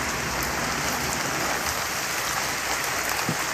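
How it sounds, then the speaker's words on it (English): Hard, heavy rain pours down in a dense, steady roar, loud and close throughout, with no voices. "Oh, the hardest rain, I had absolutely no idea."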